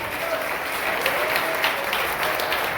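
Church congregation applauding during a worship service, a thick continuous patter of many hands clapping at steady volume with no gaps.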